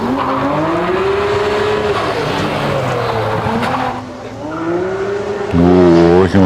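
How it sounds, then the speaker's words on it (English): A hillclimb race car on a cold-air road course is held in a handbrake slide, its engine droning loud and close while tires squeal, then revs climb sharply near the end. "There's a little bit of handbrake action there to initiate the slide."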